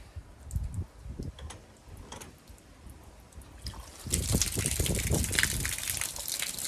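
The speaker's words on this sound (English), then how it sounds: "Boiling hot water everywhere." Boiling hot water gushing and spraying from a hot water tank valve during tempering valve work, a splashy rush that starts moderate and swells louder and fuller midway, continuing steadily to the end.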